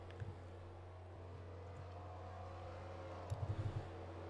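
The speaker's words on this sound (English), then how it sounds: "Got a couple of cars coming down, most of the GT Daytona field." Sim race cars from the GT Daytona field in NASCAR Racing 2003 at Daytona hold a steady, moderately loud engine drone, with a short cluster of louder engine pulses near the end.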